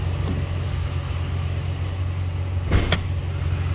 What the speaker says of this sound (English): I forgot to pop the hood.